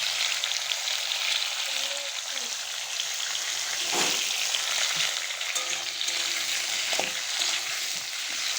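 Potato curry sizzling and bubbling in a pan as it is stirred, a dense continuous hiss up close with a few soft spatula scrapes and knocks scattered through, no speech.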